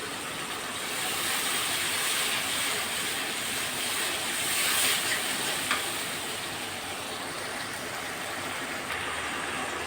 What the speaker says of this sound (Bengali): এই যে দেখো মশলাটা একটু ভাজা ভাজা হয়েছে, আদা রসুনটা এটা একটু ভাজা ভাজা না করলে হবে না